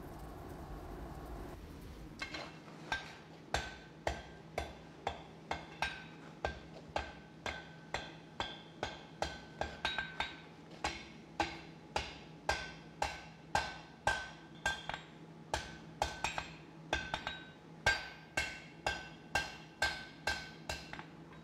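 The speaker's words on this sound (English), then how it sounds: "when you hammer them out, they become the same thickness" Hammering wrought iron pieces during a forge weld for a field gate: a long run of sharp, ringing hammer blows at a steady, even rhythm, close and clear, with no talking.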